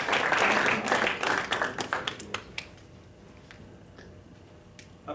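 Students in a classroom break into a burst of clapping that is dense at first, then thins out into scattered claps and fades away.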